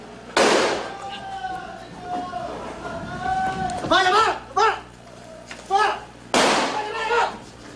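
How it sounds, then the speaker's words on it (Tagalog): Gunshots during a police shootout in an anti-drug operation, a few sharp loud bangs spread across the scene, heard amid a news narrator's voice and other people talking. "Maya-maya pa, umalingaw ang mga putok."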